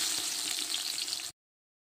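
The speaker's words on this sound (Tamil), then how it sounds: "இப்போ இந்த வெங்காயத்தை எல்லாத்தையுமே நம்ம வந்து சேர்த்துக்கலாம்" 400 g of onions hit hot oil in a big batch of charity biryani, giving a loud, even hiss of frying that runs steadily for just over a second before cutting off abruptly into silence.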